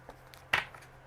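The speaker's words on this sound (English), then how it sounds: "one more shuffle because I threw cards around" Tarot cards are shuffled in a single short, close riffle midway through, with no other sound around it.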